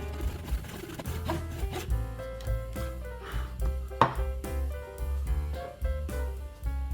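A hand saw rasps back and forth through wood in quick, uneven strokes, cutting a fret slot in a fretless bass neck, close by, with a light metallic ring between strokes.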